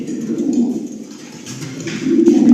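House Fiji pigeons coo in low, soft, repeated notes close by. The cooing rises toward the end, with no talking over it.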